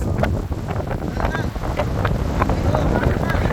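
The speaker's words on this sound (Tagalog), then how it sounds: "Hangin nga ngayon, oh. Lakas na." Strong gusty wind buffets the microphone with a heavy low roar, steady throughout, while short bursts of voices come through under it.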